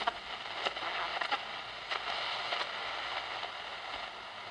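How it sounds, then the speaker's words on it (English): Steady hiss of static fills the air as an AM radio dial is swept between stations, broken by brief crackles and pops, moderately loud and continuous. "if I move through the AM dial, I just pick up some radio stations"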